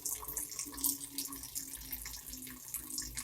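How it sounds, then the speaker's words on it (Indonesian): Tap water running steadily into a sink while hands are rinsed clean, a continuous close splashing hiss with no talking. "bilas sampai bersih dengan air mengalir"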